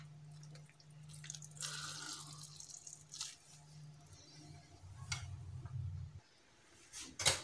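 Water drips and trickles as soaked phulkis are squeezed out by hand, scattered soft drops and small splashes over a low hum in a quiet kitchen.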